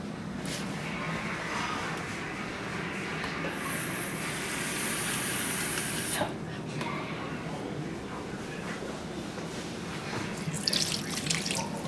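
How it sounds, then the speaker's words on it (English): Tap water runs steadily into a kitchen sink while chocolate chip pancake batter is being made, a continuous close hiss with a few brief splashes and drips toward the end. "I'm gonna add just a little bit of water just to make it a little bit wetter."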